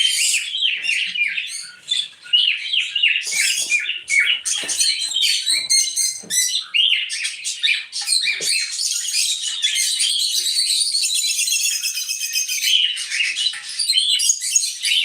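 Busy, high-pitched bird chirping and twittering throughout, many quick tweets overlapping close by, with a brief lull near the start.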